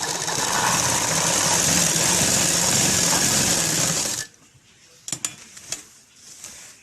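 A sewing machine runs loud and steady for about four seconds, stitching folded sharara fabric, then stops abruptly, leaving a quiet room with a few small clicks and taps.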